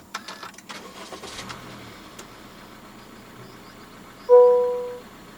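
A 2024 Honda City 1.5 V push-button start: faint clicks and cabin sounds, then a sudden loud tonal burst as the engine starts that quickly fades toward the end.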